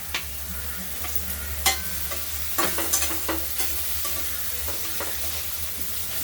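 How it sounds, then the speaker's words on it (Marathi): Salted tomatoes being sautéed in a pan, a steady close sizzle beneath scattered clinks and scrapes of a spoon stirring, with no voices. "दोन मिनिट परतून घ्यायचे टोमॅटो."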